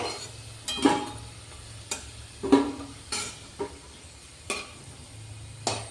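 Lobongo latika sweets frying in hot oil, with a faint steady sizzle broken by several soft clinks and scrapes as they are turned, close and quiet.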